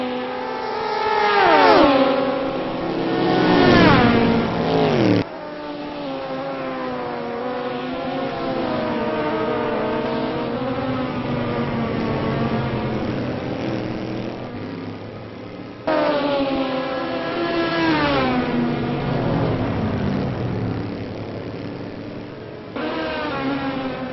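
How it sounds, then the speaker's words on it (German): A race car at the ALMS Road America race accelerates hard out of a corner, its loud engine note climbing through repeated rising upshift sweeps, with a second pass building later; no talk over it. "Schafranka hier aus der Kurve raus"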